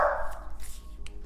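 A dog barks once loudly at the start, a sharp close yelp that quickly fades into quieter room noise.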